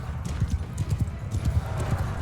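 Armored horse galloping through a crowd of soldiers in Mount & Blade II Bannerlord, a steady rapid clip-clop of hooves with low thuds, close and fairly loud throughout.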